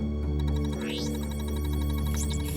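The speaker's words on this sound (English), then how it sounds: "It's ringing." A telephone rings in a steady, tonal, electronic way over a low background hum.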